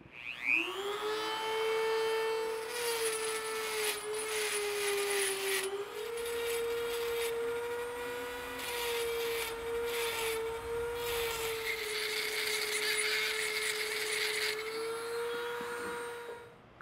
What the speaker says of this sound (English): we gotta use a grinding wheel. So got my little Dremel set up.